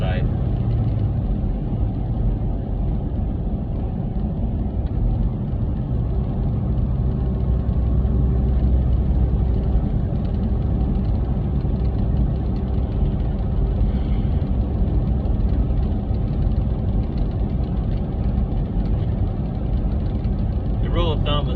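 A semi truck's engine drones steadily in a low gear while heading downhill on the I-17 mountain pass, a continuous heavy rumble with no clear breaks.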